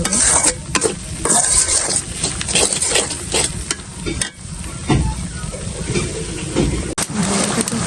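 Spicy masala paste frying in a pan, a loud continuous sizzle close by with dense, rapid stirring scrapes and occasional utensil clatter throughout.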